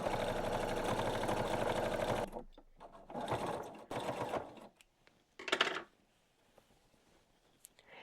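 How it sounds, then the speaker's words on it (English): Sewing machine stitching a sweatpants pocket seam: a close, steady run of fast stitching that stops, followed by a few short bursts and handling noises. "make sure your seam is strong, and start sewing."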